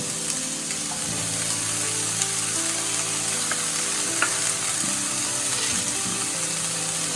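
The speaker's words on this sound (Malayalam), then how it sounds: "നല്ലതുപോലെ ഒന്ന് ഇളക്കി കൊടുക്കുക" Garam masala and chopped chili frying in a pan for paneer butter masala while being stirred, a steady close sizzle with scraping stir strokes and a faint tonal hum beneath, continuous and without speech.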